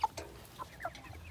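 Young roosters about six weeks old cluck on a homestead, a few short, soft calls spaced irregularly over a low background hum.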